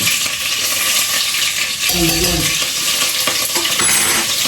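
Mustard seeds, cumin and other spices crackle in hot oil for a Gujarati tempering, giving a loud, dense, continuous sizzle with a brief metallic clink partway through and no talking.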